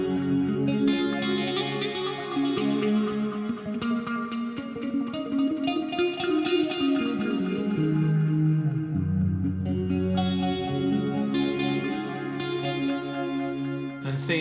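Electric guitar run through a HeadRush effects unit on a clean preset, strummed chords and picked notes ringing steadily and fairly loud with chorus-like shimmer and light echo, played alone without talking.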